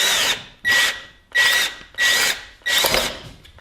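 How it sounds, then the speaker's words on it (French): A power drill drives screws in a DIY job, with five loud whirring bursts in a steady rhythm, each rising and tapering off, separated by short pauses. "Là, regardez, je viens de visser."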